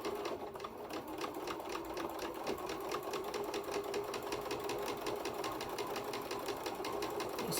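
A sewing machine stitches quilt fabric along curves, running in a rapid, even mechanical rattle of needle strokes, close up and steady throughout with no talk.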